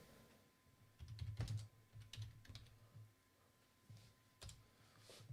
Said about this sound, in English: Let's break out the keyboard.